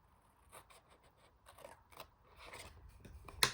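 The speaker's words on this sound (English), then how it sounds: "Cut that as well up to that score line." Scissors cut 6x6 paper up to a score line in quiet, close snips and rasping slices, faint at first and growing louder, ending with a sharp crisp snip.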